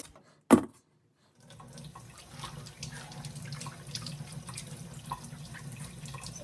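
Water from a kitchen tap runs steadily over fresh ears of corn being washed, a hissing stream that starts after a brief knock and a moment of silence, then carries on evenly to the end.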